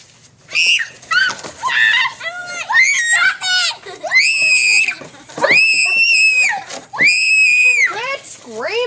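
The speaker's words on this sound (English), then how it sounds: "Quit screaming!" Several children scream and shriek in high, piercing bursts, close and loud, one after another with short gaps, during a family photo session at home.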